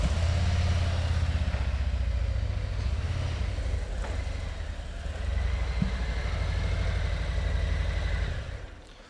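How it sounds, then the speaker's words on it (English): A 2020 Harley-Davidson CVO Ultra Limited motorcycle idles close by with a deep, steady low rumble that holds for about nine seconds before easing off at the end, with no voices over it. "It's the 2020 CVO Ultra Limited. Dominic, bring that thing in."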